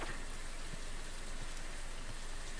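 Steady rain falls in the modded PC farming game Stardew Valley, a dense, even hiss of raindrops pattering continuously with no talk over it.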